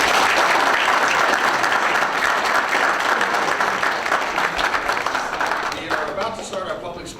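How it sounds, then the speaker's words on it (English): At a city council meeting, the audience gives a round of applause, loud, dense clapping that gradually thins and fades toward the end as voices begin to emerge. "let's give them a nice round of applause"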